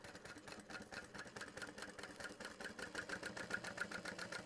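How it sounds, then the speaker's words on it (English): A sewing machine top stitches a quilted vinyl bag at a long stitch length, making a quiet, fast, even mechanical whir and tapping close by, with no talk. "We're going to top stitch that down all the way."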